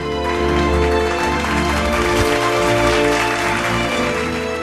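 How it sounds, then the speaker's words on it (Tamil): Applause from an audience at a children's speech prize ceremony, with continuous clapping over music, loud and steady throughout. "ஒரு உற்சாகமான கைத்தட்டல்கள்."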